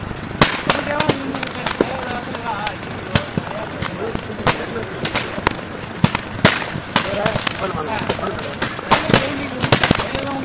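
Firecrackers burst in rapid, irregular volleys inside a burning fireworks warehouse (godown) in Ariyalur district, Tamil Nadu, sharp cracks and pops layered over a steady roar of fire and crowd noise.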